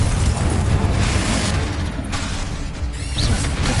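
Explosive Confringo blasting spell from Hogwarts Legacy erupting in a dense, loud, continuous rumble of booms and crackling blasts from start to finish.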